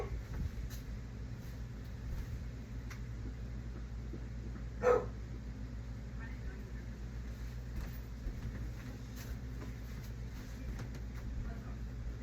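A single dog bark rings out once, mid-distance, over a steady low hum of traffic and rumble.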